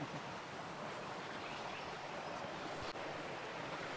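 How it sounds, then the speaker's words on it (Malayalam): A Kerala river rushes over rocks in a dense, unbroken wash of flowing water, loud and close throughout, with a faint gust of wind and no speech. "ഇവിടെയൊക്കെ നിറച്ച് വെള്ളം ഒഴുകുന്നുള്ളേ"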